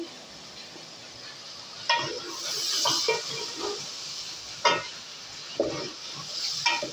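Meat sizzles while being stirred in a pan for achar gosht, a soft continuous frying hiss broken by several louder scraping stirs.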